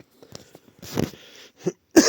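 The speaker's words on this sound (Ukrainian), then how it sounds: "вибачаюся за кашель" A person coughs a couple of times up close, a harsh rough burst followed by a shorter one, with small rustles in between.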